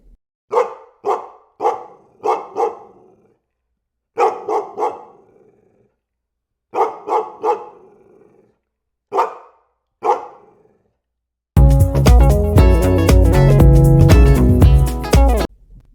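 Dog barks in quick clusters of three to five sharp woofs separated by pauses, loud and close, then giving way to a burst of music.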